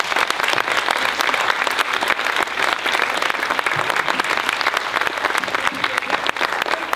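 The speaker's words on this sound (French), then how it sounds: "Je demande aussi un tonnerre d'applaudissements pour notre metteur en scène, Mathieu, qui a fait du bon boulot." A theatre audience gives loud, thick applause after a show, a continuous roar of many hands clapping close by that holds steady throughout.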